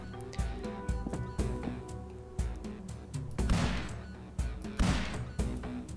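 Weapon fire in a first-person game with noticeable recoil: a series of sharp, loud shots, some in quick pairs and others spaced apart, each with a short crashing tail, heard close up and alone.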